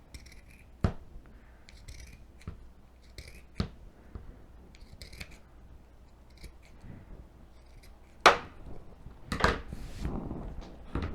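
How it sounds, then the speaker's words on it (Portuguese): Scissors snipping fabric for a rag doll's dress, sharp separate cuts spaced a second or two apart, with quicker rustling snips near the end and soft handling noise between. "Agora, nós vamos cortar ela de forma bem redondinha. Vamos cortar."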